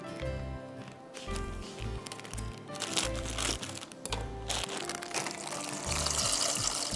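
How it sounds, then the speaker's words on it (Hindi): Oil is poured into a pot of boiling, salted pasta water, making a soft, close trickle and splash over a low, steady kitchen background. "उसमें हम थोड़ा सा नमक शामिल करेंगे और थोड़ा सा तेल डालेंगे ताकि पास्ता चिपके ना"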